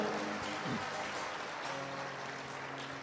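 A congregation at a Hindi Christian sermon claps together, a soft, steady patter of applause with faint voices and a brief murmur mixed in.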